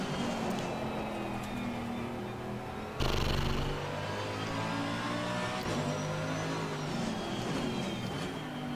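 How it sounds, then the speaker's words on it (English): Race car engine in Assetto Corsa Competizione at the Nürburgring, a steady high revving whine echoing off a wall along the straight, pitch shifting with gear changes and a sharp burst near three seconds. "I love how the sound is being reflected from the wall here on the straight"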